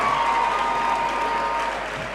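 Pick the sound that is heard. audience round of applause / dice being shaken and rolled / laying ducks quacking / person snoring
audience round of applause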